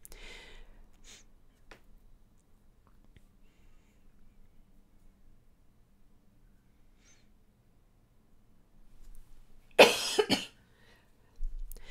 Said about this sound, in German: je mehr ich jetzt gerade mal gesprochen habe, umso mehr habe ich eben auch mal gehustet